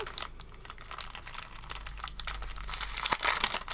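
Close, crisp crinkling of a thin paper bag, a steady rustle of small crackles with a sharper burst near the end.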